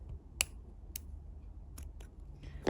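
Small scissors snip through macrame bracelet cord in a quiet room, making a few crisp, sharp clicks spaced unevenly, with the loudest snip near the start and another at the end.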